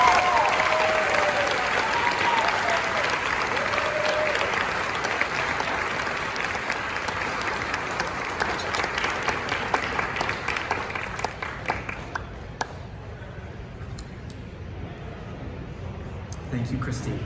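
Audience applause at a gala after a speech, a broad sustained wash of many hands clapping that thins into scattered claps and fades out near the end, with a voice briefly audible early on.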